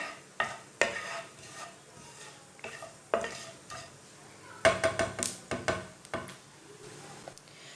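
Whole cumin and coriander seeds dry-roasting in a pan for a village-style raw mango chutney, with scattered crackles and scraping stirs at an irregular rhythm, close by and moderately loud, no voices.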